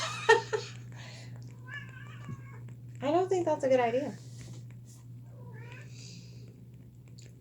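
A kitten meows in short, high calls that rise and fall, breaking out between stretches of talk over a steady low hum, with one longer burst of cries in the middle.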